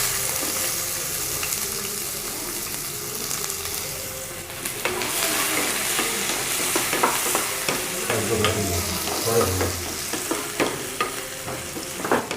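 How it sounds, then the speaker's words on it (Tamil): Onions frying in hot oil in a cooking pot, a loud continuous sizzle that swells halfway through, with stirring scrapes and bubbling pops close by. "வெங்காயம் பொன்னிறமாக வதங்கிடுச்சு"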